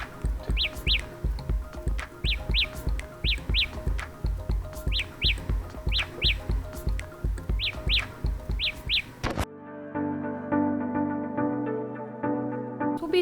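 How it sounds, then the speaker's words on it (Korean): Samsung Galaxy Buds Pro earbuds sound their locator tone, bright paired chirps like a baby bird repeating in a regular rhythm for about nine seconds before music takes over. "신호음 켜기를 누르면 이어버드 자체에서 아기새가 짹짹 우는 듯한 상당히 귀여운 소리가 나요"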